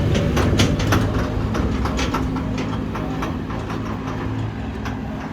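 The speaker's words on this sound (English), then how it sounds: "Let the garbage tractor" A garbage tractor works in a Jerusalem street, giving a loud, steady low engine drone with repeated sharp metallic clanks and rattles over it and no speech.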